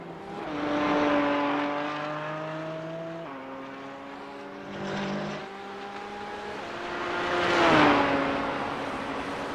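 Porsche engine in a racing video game revs loudly through a series of gear changes, pitch climbing and dropping in steps, swelling near the end, with no voices.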